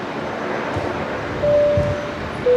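A steady broadband roar from an Emirates airliner departing runway 19 left at Brisbane Airport, heard from a distance as a constant rushing drone with faint tonal whines rising near the end, no voices over it.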